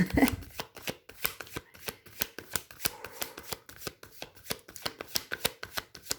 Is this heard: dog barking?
no